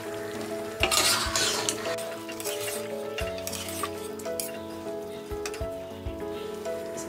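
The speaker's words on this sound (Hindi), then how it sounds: "मसाले को हमने अच्छी तरह से फ्राई कर लिया है। अब हम इसमें डालेंगे ये आलू" Potatoes sizzle as they go into well-fried spice masala for an aloo matar potato-and-pea curry, with a soft steady frying hiss, clinks and scraping stirs of a spoon against the pan, close and fairly loud.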